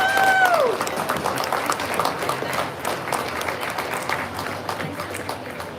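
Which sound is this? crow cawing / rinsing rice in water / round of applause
round of applause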